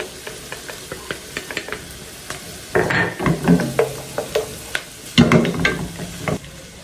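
Onion, carrots, celery and garlic browning in a pan as a base for beef Wellington, with soft sizzling broken by bursts of stirring and scraping against the pan, close and fairly loud, no talk.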